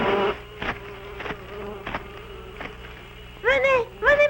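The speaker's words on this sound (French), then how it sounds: "Les abeilles sont furieuses." Angry cartoon bees buzzing in rising, swooping bursts over a steady drone, loud and close, with short pauses between swells and two sharp whiny swarms near the end.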